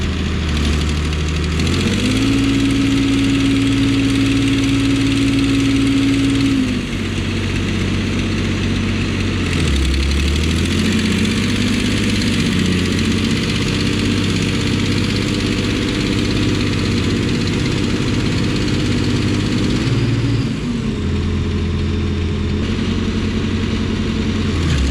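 A two-wheel drive tractor's engine runs steadily while stuck in a soft field, with a continuous loud low drone, shifts in pitch, and brief revs rising and falling throughout.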